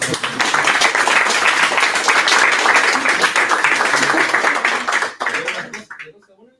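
Audience applause at a Thoughtworks professional internship launch event, loud sustained clapping for about five seconds that drops off sharply, with voices mixed in.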